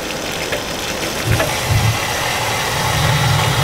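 Hugo battery backup pump from Safeguard Power Solutions running at maximum flow, a steady mechanical hum with a few short thumps as the relief valve pops, no talking.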